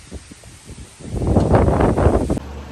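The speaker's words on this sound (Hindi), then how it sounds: "देखे आप ये देखा हवा कितनी तेज है, बहुत तेज हवा है" Strong wind on a university campus, roaring and buffeting the microphone in a broad, steady rush that swells louder after the first second, with faint rustling underneath.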